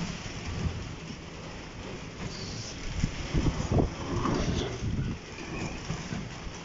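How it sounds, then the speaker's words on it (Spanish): Heavy rainstorm with wind in Morelia, Michoacán, a steady dense roar of rain and gusts near the listener, with low rumbling swells in the middle suggesting thunder and a loose tarp being buffeted. "Wow, ahora sí llegó con tormenta, amigos."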